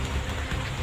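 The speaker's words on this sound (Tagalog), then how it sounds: "Tingnan nyo ang lakas ng ulan mga idol, no?" Heavy rain pours steadily in a mountain setting, a dense, continuous hiss and patter loud and close throughout with no pauses.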